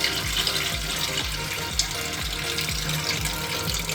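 Running tap water pours steadily over soaked walnuts and hazelnuts being rinsed for aşure, a continuous close splashing stream with a faint rhythmic gurgle beneath it.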